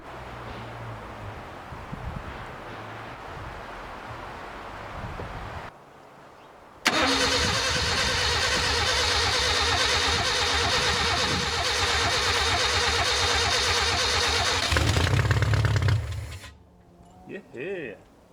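A vintage Suzuki LJ50 jeep, abandoned for 20 years and gravity-fed from a tank straight into the carburetor, cranks over, fires up and runs loudly and steadily for about ten seconds before cutting off, with wind noise and some talk around it.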